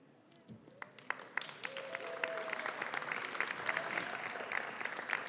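Families and guests at a physician assistant white coat ceremony applaud the new students. Scattered claps build into fuller, sustained clapping, with a few voices mixed in.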